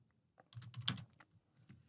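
A short burst of keystrokes on a computer keyboard, quiet close clicks in a quick cluster with one sharper tap, no talking.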